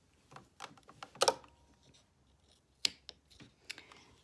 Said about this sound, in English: I'm going to cut the thread now